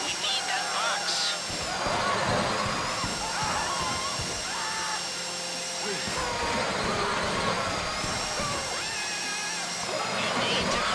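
A safe-cracking drill grinds steadily through a deposit box during a video-game heist, a continuous mechanical whine with machinery noise, running under frequent talk from several players.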